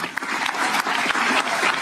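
Steady, dense applause fills a Supreme Court ceremony hall as minister Alexandre de Moraes is honoured, a continuous wash of many hands clapping close and loud.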